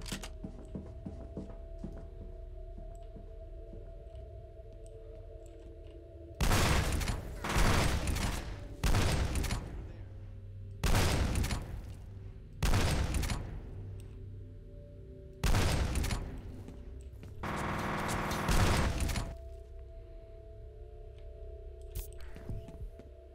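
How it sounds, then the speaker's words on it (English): Repeating cannon fire in the first-person shooter F.E.A.R., heard as about six heavy bursts between about 6 and 20 seconds, each loud and booming against a quiet game background. "That repeating cannon sucks."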